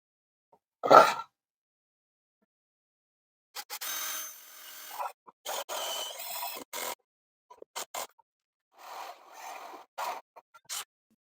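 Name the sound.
hole saw cutting wood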